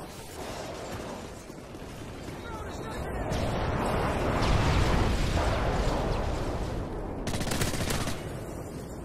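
Stealth airstrike bombing in the video game Modern Warfare 3: a dense run of heavy explosions and rumbling gunfire swells in the middle and stays loud throughout, with no talk.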